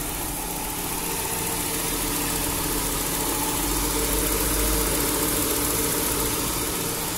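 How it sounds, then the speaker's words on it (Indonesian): A 1997 Volvo 850 GLT with a 2.5-litre engine and automatic gearbox idles in a steady, close mechanical hum with a light knocking texture and no voices. "seperti ini sob kondisinya untuk ruang mesin dari Volvo 850 GLT tahun 97"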